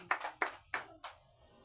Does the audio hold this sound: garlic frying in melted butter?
no